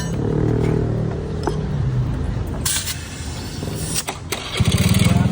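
A motorcycle engine runs nearby, a loud continuous rumble that shifts in pitch, with a burst of rapid pulsing revs near the end and no talking over it.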